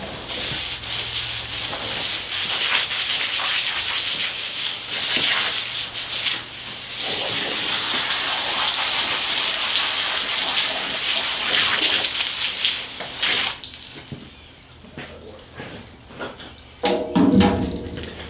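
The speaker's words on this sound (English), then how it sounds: "So we'll squirt it down. Just get it good and wet." A hose sprays a steady stream of water onto a deer carcass being wetted down before skinning, hissing and splattering continuously up close, then tapering off to quieter dribbles and a brief louder splash near the end.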